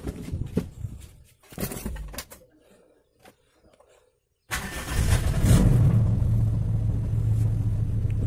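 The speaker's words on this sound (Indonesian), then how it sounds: "Oke, kita biarkan stasioner terlebih dahulu agar oli memasuki seluruh ruang bakar, ruang mesin maksud saya" A Toyota Kijang engine, freshly serviced with an oil change, cranks and catches after a few faint knocks and a pause, then settles into a steady, close idle rumble.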